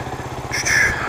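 A Suzuki DR250 motorcycle engine runs nearby with a low, pulsing rumble that rises slightly in level partway through, brief and unaccompanied by talk.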